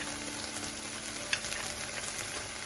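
Butter melting into a hot pan of cooked apricots gives a steady, close sizzle with a light crackle throughout and a single brief clink partway through, with no voices.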